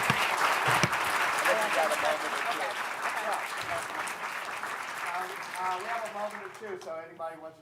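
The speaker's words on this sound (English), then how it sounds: "I want to give you a round of applause" A room of attendees applauds at an urban innovation center launch event, sustained clapping that is loud at first and thins out, with a voice starting to speak as the clapping fades near the end.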